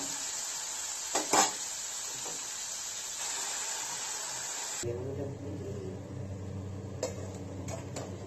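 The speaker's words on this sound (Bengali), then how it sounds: "এবার মাঝে মাঝে এসে আমি একটু নাড়িয়ে যাচ্ছি আর ঢাকা চাপা দিয়ে যাব" Vegetables frying gently over low heat in a pan sprinkled with water, a soft steady sizzle with a few light stirring scrapes and clicks, then a quieter muffled stretch as if covered, no talking.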